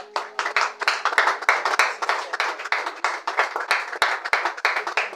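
A church congregation claps together in a steady, driving rhythm, loud and close, the beat holding for several seconds as worship to the king of kings, with no speech over it.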